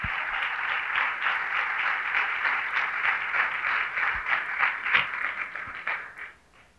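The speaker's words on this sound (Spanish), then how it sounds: "démosle un aplauso" A church congregation applauds in a steady, dense wash of clapping that carries on for several seconds before fading at the end.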